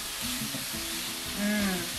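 Ground cumin and cinnamon sizzle in hot oil in a frying pan while being stirred, a soft steady crackling hiss with brief scraping touches, close and fairly quiet, no voices.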